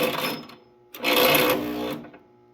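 The engine of a 1967 International truck cranks over on a weak battery with booster help, giving two bursts of rhythmic mechanical whirring separated by a short pause, loud and close.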